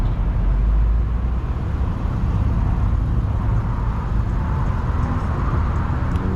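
A wide-body tuner car rolling into a Saturday night car meet, steady loud low engine rumble and road noise throughout, close and continuous, no talking.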